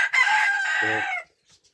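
A single loud rooster crow rings out up close, a sustained strained call that breaks off abruptly into silence.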